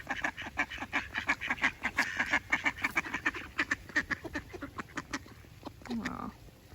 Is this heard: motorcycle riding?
no